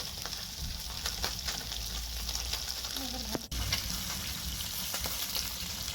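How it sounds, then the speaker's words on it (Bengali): Small fish sizzle steadily in hot oil in a pan, a constant crackling hiss with a brief clatter partway through and no voices. "এবারে মাছগুলো দিয়ে দিচ্ছি। মাছগুলো আমি খুব ভালো করে ভেজে নেব।"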